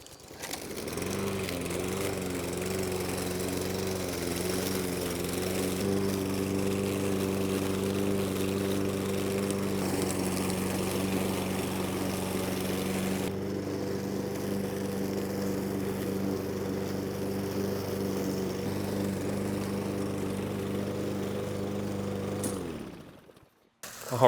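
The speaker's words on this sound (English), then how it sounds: "So let's get to mowing" A lawn mower runs steadily and loud for about twenty-three seconds, mulching fallen leaves into leaf mulch, with a constant engine drone that holds until it cuts off near the end; no one speaks.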